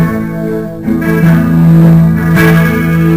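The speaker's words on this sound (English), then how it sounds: "We'll do a heavy chorus here." An electric guitar chord rings out through a heavy chorus pedal, shimmering and warbling, loud and sustained, with a fresh strum partway through.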